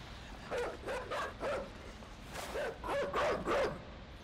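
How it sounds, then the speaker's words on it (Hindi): A dog in the game Inside barks during a chase, two bursts of three or four sharp barks, moderately close but fairly quiet, with no talk over them. "कुत्ते की स्पीड मेरे से ज़्यादा है।"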